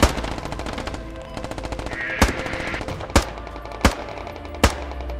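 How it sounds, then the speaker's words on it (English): Gunfire in a multiplayer shooter game, a steady rapid automatic rattle running throughout, punctuated by four louder, heavier single shots spaced about a second apart, close and dominant. "Stop shooting at me."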